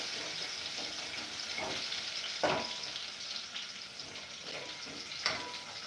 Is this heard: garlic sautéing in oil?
yes